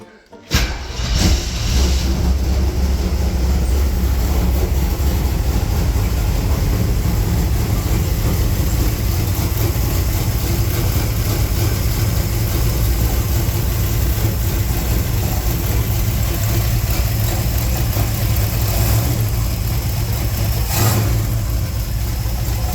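A Chevy 355 small-block V8 in a Firebird cranks and catches, then settles into a loud, steady, close idle with a lumpy rumble for over twenty seconds and a couple of brief blips along the way.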